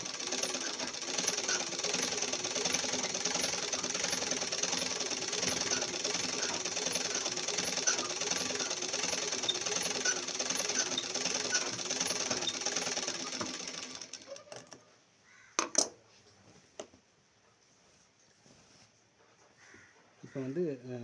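A sewing machine stitches a double line along the seam of chudidar pants, running in a steady, fast mechanical patter for about fourteen seconds before stopping, followed by a few soft handling clicks and a quiet room.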